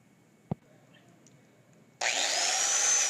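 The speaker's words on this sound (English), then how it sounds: "This little brush that goes on my grinder worked really good." A wire cup brush spun on an angle grinder scours freshly welded steel on a homemade adjustable bench press, starting abruptly after a single sharp knock and then holding a loud, steady, bright whirring scrape.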